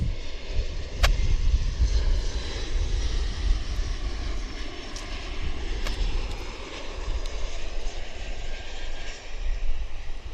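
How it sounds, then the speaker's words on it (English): An Alaska Airlines Embraer jet on final approach, heard as a steady, broad engine roar with deep rumble throughout, moderately distant and continuous with no talking. "So this is an Embraer. Alaska Airlines setting up for approach. Final approach."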